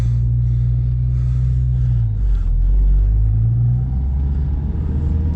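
A car with a rebuilt Honda D16Z6 engine runs steadily up close, its low engine drone dipping and rising once midway through, like a brief rev change, with no talk over it.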